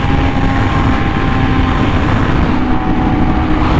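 A Honda Fireblade RR-R SP with an SC Project exhaust at speed on a top speed run, a loud, continuous engine drone with heavy wind roar and no pauses.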